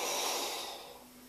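A single long, close exhale through the nose and mouth during an elbow slide exercise on the floor, starting strong and fading over about a second.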